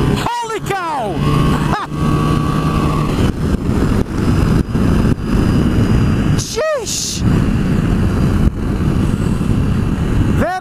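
A Honda VFR1200X motorcycle at full throttle, a loud continuous engine roar building as it accelerates hard, with wind buffeting and sweeping rising-and-falling tones of passing traffic, and a rider talking over it.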